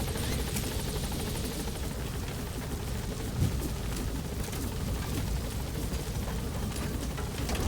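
A helicopter arriving at a landing zone in the Metal Gear Solid V video game, a steady dense rotor and engine roar that holds at constant loudness throughout.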